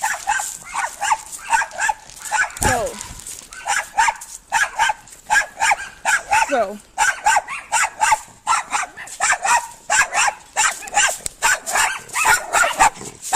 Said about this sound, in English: I believe it's the same dog